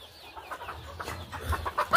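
Hens in a village poultry shed with laying nests give soft, scattered clucks at close range, growing a little louder toward the end over a quiet room background.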